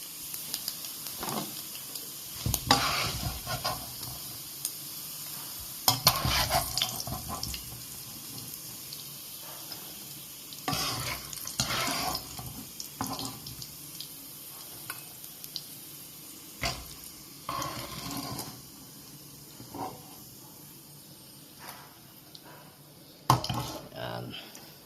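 Tofu and pork frying in a pan, a continuous hiss with a string of scraping stirs and clatters and a voice speaking at intervals.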